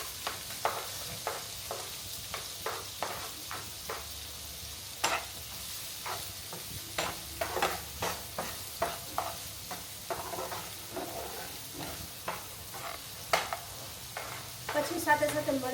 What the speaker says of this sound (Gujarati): ચલો આપણું તેલ થઈ ગયું છે ગરમ, તો એની અંદર આપણે પહેલાં ડુંગળી એડ કરી દઈશું